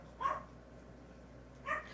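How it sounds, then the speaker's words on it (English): A Yorkshire Terrier barks twice, two short sharp yaps spaced well apart in a quiet indoor room with a faint steady hum. "Binky, if you keep barking, you're going to have to come in"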